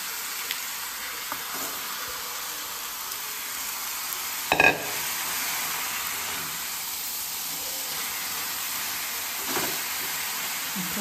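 Hadga flowers sizzling as they fry for a vegetable dish, a steady quiet hiss throughout with a brief louder stir or clatter midway and faint utensil knocks, no talking.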